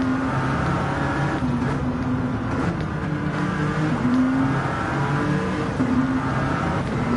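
Peugeot 908 HDi diesel Le Mans prototype race car accelerating hard out of a chicane at Monza, a steady loud engine drone with rising pitch heard from onboard, continuous for several seconds with no talk.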